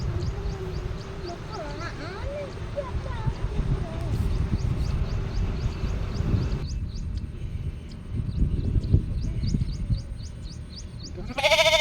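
A sheep being marked for a Dasara offering to the goddess Maisamma bleats a few wavering cries close by, over steady crowd chatter, with thin bird chirps throughout.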